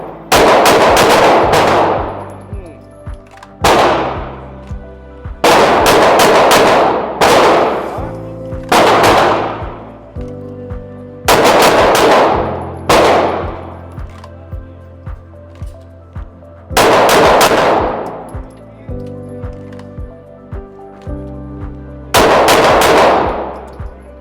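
A pistol fires during a live-fire draw drill: five separate strings of rapid, loud shots, each burst ringing out briefly before a pause of a few seconds.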